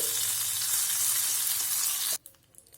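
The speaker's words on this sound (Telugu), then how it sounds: "ఈ పోపుని ఈ పప్పులోకి వేసుకోండి" Hot Rayalaseema-style tempering of dried red chilies and curry leaves is poured into gongura dal, giving a loud, close, steady sizzle that cuts off abruptly near the end.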